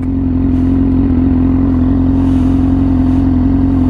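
A Yamaha R6 motorcycle with an insanely loud aftermarket exhaust idles close by, a steady, heavy droning rumble with a burbling pulse that stays constant and loud throughout, with no talk.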